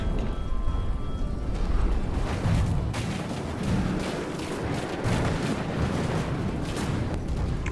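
Tank shells and artillery fire in the naval and vehicle combat game From the Depths, a steady rumbling barrage of booms and impacts, dense and continuous at fairly high volume.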